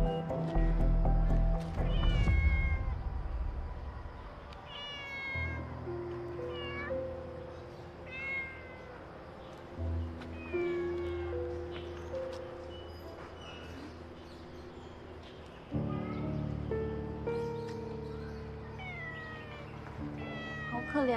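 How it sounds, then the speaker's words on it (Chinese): A stray-looking cat meowing repeatedly, plaintive rising and falling cries scattered across the scene, fairly faint against low rumbling background noise and a steady hum. "可怜的野猫啊！"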